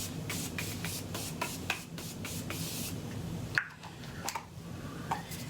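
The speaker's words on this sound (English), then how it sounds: "I'm just gonna set my face with the Morphe setting spray" Several quick, soft spritzes of a makeup setting spray bottle onto a face hiss close by in a short rhythmic series, then a few faint taps and rustles follow.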